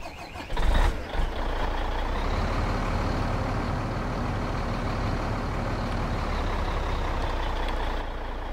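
Truck engine in Farming Simulator 2017 running at a steady, loud idle rumble after a brief louder burst near the start, with no talk.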